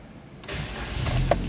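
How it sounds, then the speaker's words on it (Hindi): A Maruti car being started after a diagnostic reset: a brief electric whir, then the starter cranks and the engine catches with a short burst, close by and with no talk. "अभी हम गाड़ी स्टार्ट करके देख लेते हैं"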